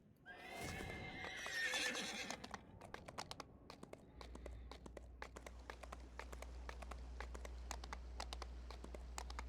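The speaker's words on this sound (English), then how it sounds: "I think that this horse doesn't actually fit the character well." In Dungeons and Dragons Online, a horse gives a loud whinny, then its hooves strike out a regular clip-clop rhythm that continues steadily at a soft, even level.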